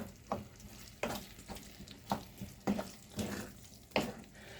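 Water splashes and sizzles in a simmering pan of shepherd's pie filling in a series of soft bursts, with gentle stirring sounds between them, close and quiet.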